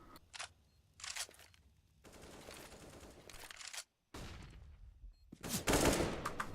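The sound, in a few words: gunshots, headshot in a video game match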